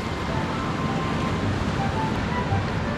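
Ocean waves rolling onto a Hawaii shore at high tide during a fishing outing, a continuous broadband wash of surf mixed with wind buffeting the microphone, steady and fairly loud with no voices.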